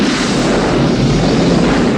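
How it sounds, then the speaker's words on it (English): Loud, sustained explosion from the 1983 James Bond film Octopussy, a continuous deep rumbling roar lasting about two seconds without letting up, with no voices heard over it. "Another satisfying explosion"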